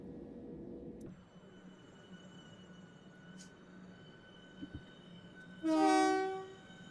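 Train at a station in the Train Simulator Classic game, South Eastern Network on the Mid Kent and Bromley North line: a steady low engine rumble, then a loud, brief horn blast near the end.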